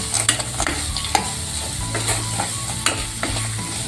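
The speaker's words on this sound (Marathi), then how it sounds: "हे सांडगे पण आपण याच्यामध्ये ॲड करायचे ते पण एकजीव करायचे छान मिक्स करून घ्यायचे" Sandge stirred into frying onion-spice masala in a pan, a close sizzle broken by repeated quick clacks and scrapes of a spatula against the metal.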